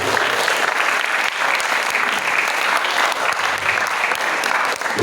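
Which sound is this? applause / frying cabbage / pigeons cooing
applause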